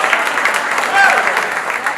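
An audience applauds at an anniversary gathering after a choir performance, a steady wash of clapping hands lasting the whole moment, moderately loud and even.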